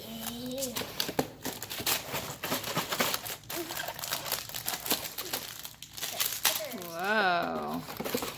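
Cardboard and plastic packaging crinkles and rustles in scattered bursts while a box of IQ Toys gear building blocks is unboxed, with people talking and a high-pitched voice exclaiming over the handling.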